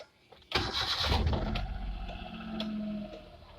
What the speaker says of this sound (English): I'm just gonna start the engine.